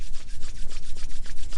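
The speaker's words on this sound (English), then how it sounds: "bring your hands together and rub them until they feel nice and warm" Palms rubbing briskly together to warm up, a steady close-up swishing friction with quick repeated strokes, loud and alone.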